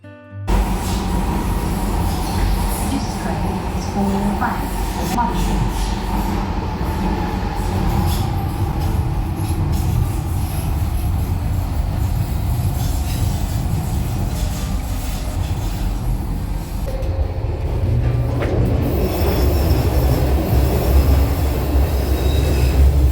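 Underground train running loud and close: constant rumbling roar with rattling wheels and metallic squeal, building slightly toward the end, no talking.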